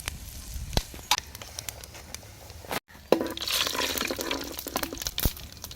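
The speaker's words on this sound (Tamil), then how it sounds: "பட்டை கிராம்பு கல்பாசி எல்லாத்தையும் சேர்க்குறோம் அழகாக பொரியுது பாருங்கள்" Cinnamon, cloves and stone flower frying in hot sesame oil, spattering crackles and sharp pops over a soft sizzle that swells after a brief pause.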